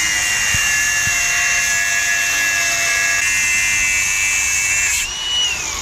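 A battery angle grinder with a small, weak battery cuts through a metal part with a loud, close, steady high whine, a couple of faint knocks early on, and a drop in pitch as the cut ends.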